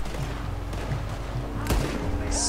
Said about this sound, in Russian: Чё за пальба началась тут?